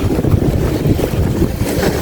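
Strong wind blows outdoors at a fish farm, buffeting the microphone with a loud, continuous rumbling roar for a couple of seconds.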